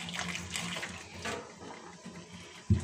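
Boiling water from a kettle is poured onto and around a kitchen sink drain, making a close, splashing gurgle that rises and falls, then ends with a soft thump.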